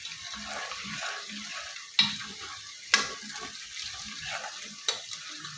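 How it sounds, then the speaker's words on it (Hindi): Garlic fries in hot ghee in a pan, a soft continuous sizzle broken by a few sharp clinks and scrapes of a spoon stirring, with no talking. "लहसुन को लाइट ब्राउन करेंगे।"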